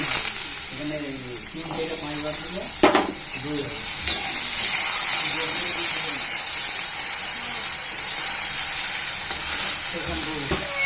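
Steady loud sizzling of potatoes frying in hot oil, with stirring clatter and a voice talking underneath.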